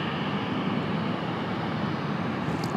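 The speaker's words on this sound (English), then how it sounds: "Nope, we got a Dreamliner over there." A Boeing 787 Dreamliner departs with a steady, loud, broadband jet roar that holds constant throughout, heard from an airport vantage point.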